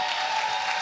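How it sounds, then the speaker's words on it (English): Brief burst of crowd applause for competitors at a Fortnite Summer Skirmish gaming event, a steady dense wash of clapping over the whole moment with a faint steady tone running beneath. "can we get a round of applause, please,"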